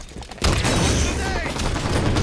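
Halo 5 multiplayer gunfire crackles in a dense, continuous barrage that bursts in sharply after a quiet start, loud and close with overlapping shots and game effects, while voices talk in the background.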